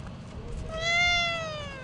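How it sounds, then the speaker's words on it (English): A cat gives one drawn-out, rising-then-falling meow at its reflection, close by, over a low background rumble. "Are you meowing at your reflection?"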